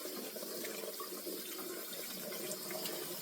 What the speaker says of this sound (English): I'm putting cold water over this to stop the cooking process within the noodles